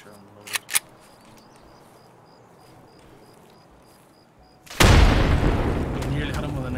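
A grenade blows up in the shooter game Escape from Tarkov as a sudden loud, close boom that decays into a rumbling tail, after two sharp clicks earlier over quiet ambience with insect chirps.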